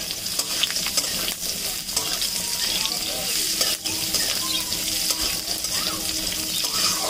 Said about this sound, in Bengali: তেলের মধ্যে পুরো রাখা আলুগুলি আমরা ওর ওপর থেকে দিয়ে নিই।